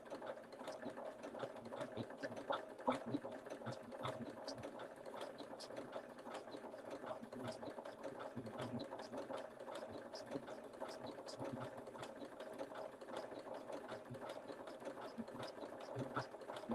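A sewing machine stitches along the edge of fabric, giving a steady, quiet mechanical hum with fast repetitive needle ticks that run throughout at a low, even level.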